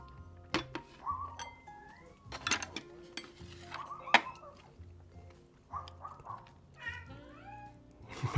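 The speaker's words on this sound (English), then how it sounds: "My cats are so hungry." Hungry house cats meow repeatedly in short, rising calls, close by and fairly loud, mixed with clinking dishes and cutlery during feeding, with no one talking.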